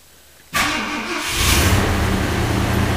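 A 1966 Ford Galaxie 500 with a stock 352 FE V8 cold-starts on a cool morning: a sudden crank and catch, then a loud, rough, steady idle close by.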